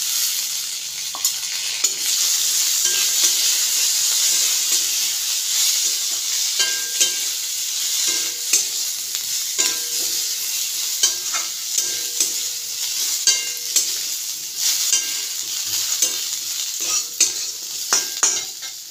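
Chicken 65 sizzles steadily in hot oil in a pan, stirred with a spoon that scrapes and clinks in frequent irregular knocks, close and fairly loud, with no talking.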